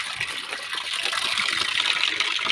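Water gushes steadily at a village spring in the hill village of Jamri while a buffalo drinks from it, a continuous bright splashing flow close by that runs unbroken through the whole stretch.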